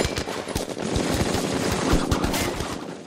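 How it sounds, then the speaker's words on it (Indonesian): Heavy film gunfire crackles in rapid overlapping bursts, loud and dense, like a machine gun and rifles firing together without pause, in a Band of Brothers battle scene at Bastogne. "Tembakan bertubi-tubi dari musuh menyebabkan Hevron tak mampu meraih Julian."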